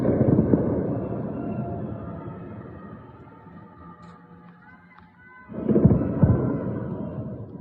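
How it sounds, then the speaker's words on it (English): Heavy explosions over a city roll out in two loud booming bursts separated by a quieter rumbling stretch, deep and spread out like distant blasts echoing. "even when I hear this, the explosions and the jets and whatever, to me that doesn't give me anxiety"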